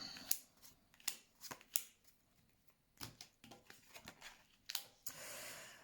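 Tarot cards are drawn and laid out for a reading, giving soft, close, quiet card snaps and slides in an irregular series of brief flicks, ending with a longer brushing sweep.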